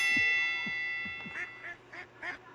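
Cartoonish ducks quack in a video game, several short quacks in a row, fairly close and clear over a steady electronic tone.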